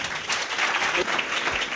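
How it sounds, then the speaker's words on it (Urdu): Church congregation applauding loudly at a Sunday service, a dense steady burst of clapping that fills the whole stretch with no pause. "زوردار تالیاں."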